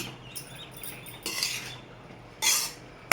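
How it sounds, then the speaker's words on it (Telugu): Egg fried rice with lemon being stirred in a pan, a spoon scraping and clinking against the metal in short bursts, with a louder scrape near the end. "మొత్తం ఒకసారి కలుపుకోండి"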